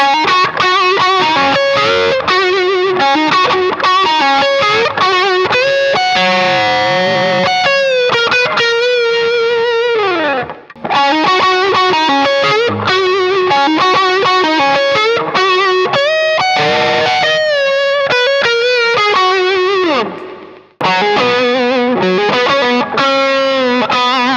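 Loud distorted Les Paul electric guitar playing fast riffs and sustained bends with mid-range throatiness, with two brief pauses between phrases.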